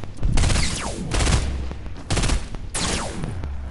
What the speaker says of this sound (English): Where are you getting shot from?